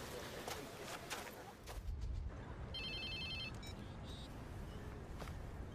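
In the video game Watch Dogs 2, a phone rings with a short burst of pulsing electronic tones, faint under a constant wash of background noise.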